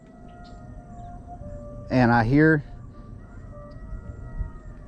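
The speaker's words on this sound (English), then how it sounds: "dogs howling. I'm not sure if that's a dog or a coyote." A dog or coyote howls at a distance near a fast-moving creek in the rain, one wavering howl lasting about a second over steady background noise, with someone speaking briefly just before it.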